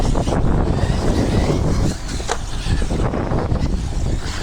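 An ARRMA Mini Kraton RC truck drives around a bowl, its electric motor whining and wheels rumbling and scraping in a continuous close stretch with a dip and surge partway through.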